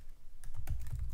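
Keystrokes on a computer keyboard while entering a Heroku git remote command, a quick run of soft clicks and taps, close and clear, with no talking.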